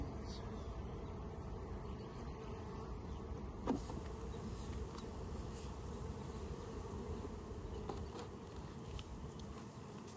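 A steady, dense insect buzz fills the air, like many bees droning together around a hive, with a couple of brief knocks partway through.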